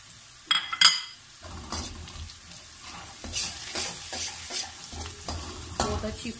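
Onions, salt, red chilli, dried coriander and turmeric being stirred and fried in a pan for mutton liver masala, with steady close sizzling broken by spoon scrapes and sharp clinks against the pan.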